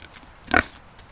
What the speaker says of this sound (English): A pig with a carrot is a happy pig.